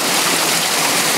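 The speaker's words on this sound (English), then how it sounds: "Well, I'm fixing to release the water." Water rushing through a homemade vertical turbine hydro generator, a loud, dense, continuous close-up gush like a strong stream.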